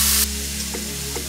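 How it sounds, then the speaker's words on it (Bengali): Vegetables tipped into hot, lightly salted oil in a wok give a sharp, loud hiss for a split second, then settle into a quieter, steady sizzle over a low hum. "এবার আমি আনাজ ভাজা দিলাম,"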